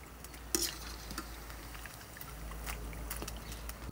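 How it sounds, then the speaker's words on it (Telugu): Cauliflower gobi pieces frying in hot oil for street-style fried rice, a soft constant sizzle broken by a few clinks and scrapes as they are turned, quiet and close with no speech. "అటు ఇటు తిప్పుకుంటూ ఒకే కలర్ వచ్చే వరకు ఫ్రై చేసుకోవాలి."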